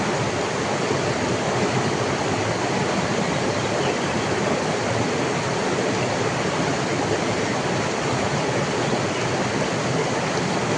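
A wide river flows with a constant, dense rush of water, a steady broadband wash that holds unchanged from start to finish.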